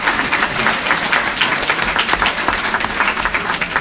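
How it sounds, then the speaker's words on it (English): A town hall audience in Northport applauds its mayor with dense, loud, sustained clapping that fills the room evenly from start to end. "Let's give him a round of applause."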